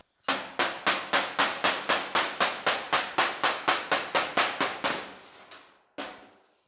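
A hammer taps a steel roof panel held against a dolly on a 1940 Ford coupe inspired build, a fast, even run of about twenty close, ringing metallic strikes that slows to a few last blows.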